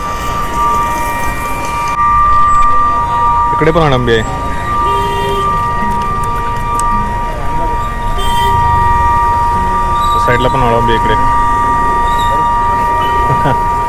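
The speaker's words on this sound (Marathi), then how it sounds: "इकडे भोंगा झाला बघा" A train horn sounds twice amid the rumble of a passing train, with people chatting and laughing nearby at a busy market in Roha during the monsoon.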